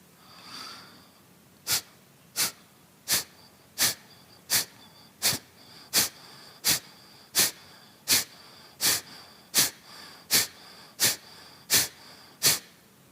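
Rapid forceful nasal exhalations in a yoga breathing exercise, sixteen sharp explosive breath bursts at a steady quick rhythm, close and loud after a short quiet start.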